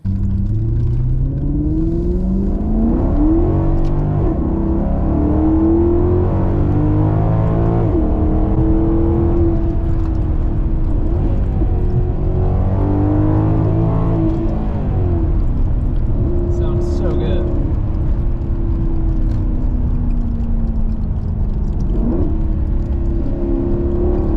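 Maserati GranTurismo with a 4.7-liter Ferrari V8, its engine note rising and falling through several loud revs and gear changes, with a voice talking over it at times.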